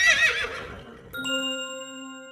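A horse neighs once, a loud whinny that fades before a clear, sustained ringing chime takes over.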